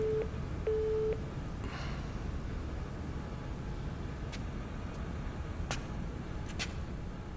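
A telephone busy signal gives a few short, steady beeps at the very start, then stops, leaving a low hum of road traffic in the background.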